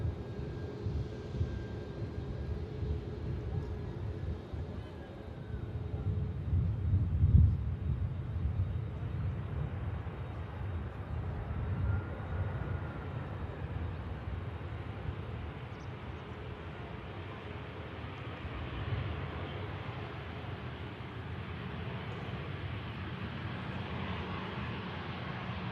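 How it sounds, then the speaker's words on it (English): A landing airliner rolls off runway 23 right via a rapid exit taxiway, its engines giving a low, distant steady rumble that swells briefly and then fades under outdoor background noise. "The aircraft making the rapid exit from 23 right."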